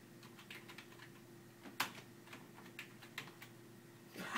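Quiet typing on a computer keyboard, a loose run of soft key taps with a few sharper clicks spread across several seconds, heard alone without talk.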